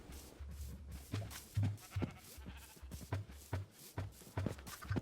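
Sheep bleating in a farming video game, a string of short, fairly faint bleats in an irregular rhythm, several animals calling one after another with other quiet farm sounds behind them.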